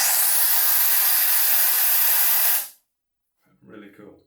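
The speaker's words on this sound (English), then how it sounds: "I'm gonna dry my hair with Xiaomi ROIDMI" A Xiaomi ROIDMI A100 brushless hair dryer blows with a steady, loud, high-pitched jet hiss for over two seconds, then cuts off abruptly, followed by silence and a brief burst of speech.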